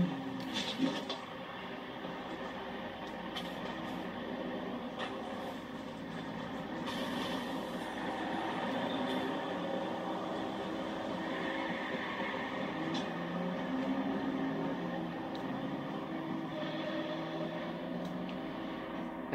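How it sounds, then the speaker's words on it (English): A train in Watch Dogs rumbles along with a low steady roar and rattling, swelling slightly midway, fairly distant and continuous without speech. "I'm about to go get on the train."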